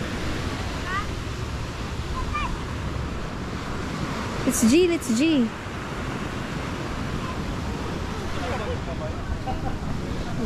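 Steady wash of ocean surf with wind noise, while a person speaks briefly and a short high whistling sound rises over it.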